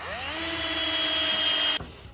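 A power drill drives drywall interior screws into scrap wood for a homemade TV stand, its motor whining steadily and loud at close range for nearly two seconds before it stops abruptly.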